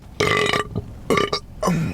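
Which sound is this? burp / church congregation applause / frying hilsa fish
burp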